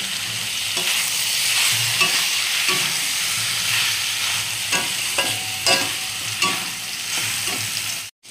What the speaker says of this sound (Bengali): চিচিঙ্গাটা দেখো সুন্দর ভাজা হয়ে গেছে আর কালারও এসেছে খুব সুন্দর